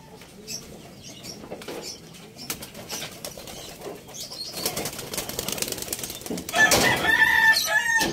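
Racing pigeons flap their wings in fluttering bursts near a loft, building louder toward the end, while roosters and other birds call in the background.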